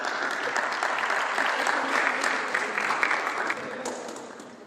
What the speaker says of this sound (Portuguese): uma salva de palmas nossa aqui